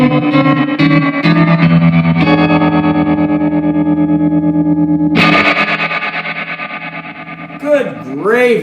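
Electric guitar through a 1966 Fender Deluxe Reverb amp with reverb on full and tremolo about halfway, playing sustained chords with a pulsing wobble and a short new phrase near the end, loud and close with no talking.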